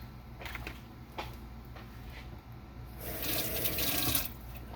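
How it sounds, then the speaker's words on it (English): A kitchen faucet runs as something is rinsed during salad preparation, a close, steady hiss of water that grows louder and fuller partway through, with a few brief knocks and no speech. "Go ahead and rinse that off."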